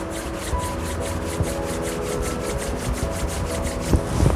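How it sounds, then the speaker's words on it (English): Palms rubbing briskly together during a mudra exercise, a fast rhythmic swishing friction repeated evenly at close range, moderately loud over faint background hum. "Rub your palms."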